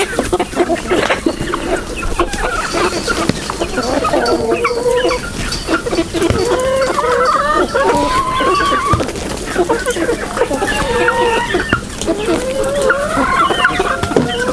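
Chickens and young roosters cluck steadily and loudly on a farm in Russia, a dense overlapping chorus of calls lasting throughout.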